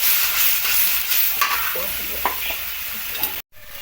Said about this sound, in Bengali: কিছুক্ষণ ধরে মশলাটাকে আমরা ভাজবো যেন কাঁচা গন্ধ না থাকে